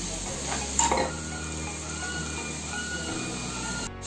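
Dried shrimp stir-fried with onion and spices in a pan gives a steady low sizzle with a brief stirring scrape near the start, close and continuous, no talk.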